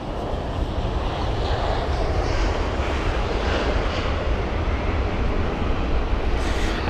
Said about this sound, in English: we'll watch the A319 first